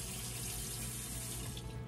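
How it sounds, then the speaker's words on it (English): A kitchen tap runs in a steady, unbroken stream as something is rinsed off during meal prep. The water sounds close and constant, with no talking. "let me rinse this off."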